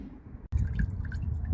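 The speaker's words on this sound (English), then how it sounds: "on this one it's a 14mm hex anyway, so let's get that oil out." Engine oil drains from a Honda Civic FN2 Type R after its 14mm hex drain plug is removed, a close, soft drip and gurgle of liquid following a brief sharp click.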